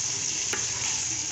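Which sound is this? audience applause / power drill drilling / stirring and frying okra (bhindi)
stirring and frying okra (bhindi)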